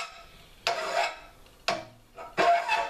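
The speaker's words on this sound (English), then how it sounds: "lock it in a vise, good. And start filing." A metal file works a chisel made from coil spring steel clamped in a vise, making three separate rasping strokes at close range, each a harsh scrape about half a second long, with short pauses between them.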